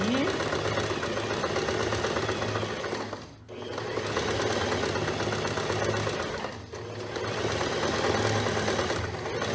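Close, steady whir of a sewing machine stitching a blouse seam with a backstitch, running almost continuously with two brief pauses.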